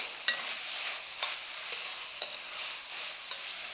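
Light scraping of a utensil stirring chicken keema in a pan, with soft strokes repeating about once a second over a faint steady sizzle. No voices.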